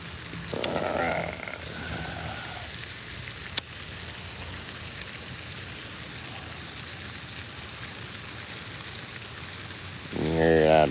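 Light rain falls during a bass fishing outing, a soft, even hiss that runs throughout, with a couple of brief knocks and clatters near the start and end.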